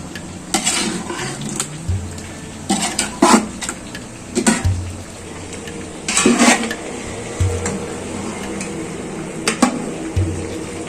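A spoon clanks and scrapes against a pot as boiled chicken pieces are spread across it for Hyderabadi chicken dum biryani, with irregular bursts of metallic clatter separated by quieter pauses and no talking.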